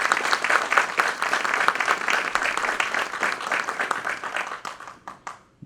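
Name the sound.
audience applause welcoming a speaker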